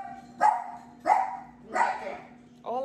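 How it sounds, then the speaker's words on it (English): A dog barks three times in spaced, evenly timed single barks, close and clear, with a fourth bark starting at the end over a faint steady hum. "What you barking for?"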